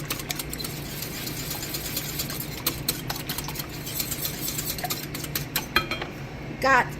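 Three whole eggs being mixed in a bowl, a quick series of rapid clicking and tapping strokes against the bowl with a continuous low background hum, fairly quiet and close.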